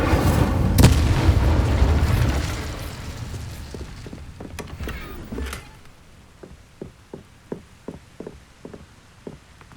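A fire spell cast in Hogwarts Legacy bursts out as a heavy, booming whoosh of flame, followed by a quieter run of soft, evenly spaced impacts or steps.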